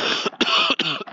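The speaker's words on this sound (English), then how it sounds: "Cough, cough, cough. I love my chest infection." Harsh, rasping coughs from a person with a chest infection, three loud bursts in quick succession, close and alone with no talk.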